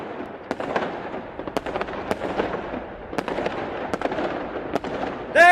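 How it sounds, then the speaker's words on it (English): A fireworks display in the factory-building video game Satisfactory crackles steadily, with scattered sharp pops and bangs over a dense fizzing rumble, ending in a brief rising tonal whistle. "Let's shoot off some fireworks."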